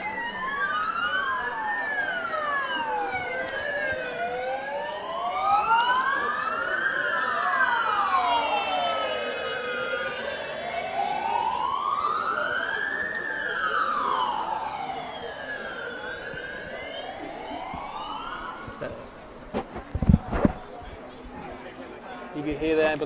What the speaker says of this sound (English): You can hear the ambulance in the background